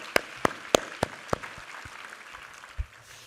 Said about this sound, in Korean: 우리 하나님께 감사와 영광의 박수 올려드리겠습니다.